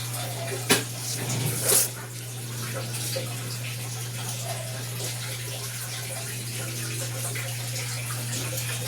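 An automatic washing machine drains water during a deep cleaning, giving a steady low motor hum with a faint watery wash over it and a couple of brief knocks near the start. Nobody talks.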